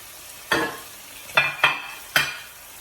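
Onions, peppers, green beans and carrots frying in a pan for chakalaka, with four sharp stirring scrapes over a quiet sizzle.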